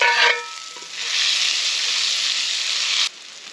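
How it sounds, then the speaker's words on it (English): Onions hit hot bacon grease in a pan over an open fire, a sharp burst of sizzling followed by a bright, steady hiss and light stirring that cuts off near the end, close and loud with no talk. "we got enough bacon grease now to add the onions"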